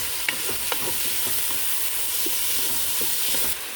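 Garlic and tomato frying in hot olive oil, a steady broadband sizzle with a few sharp spatters and stirring clicks, close and continuous throughout with no voices.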